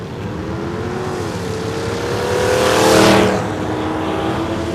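Drag race between a '79 Ford Mustang with a 302 5-liter small-block and a Mercury Comet at a strip, engines roaring steadily as a car sweeps past near the midpoint, loud and close, no talk.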